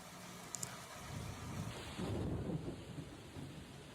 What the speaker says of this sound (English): That's hail. That's all hail. That is not snow.